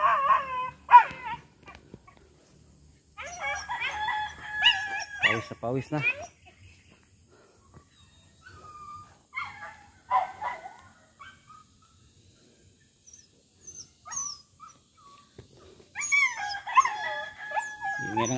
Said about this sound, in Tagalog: Ingay ng aso eh.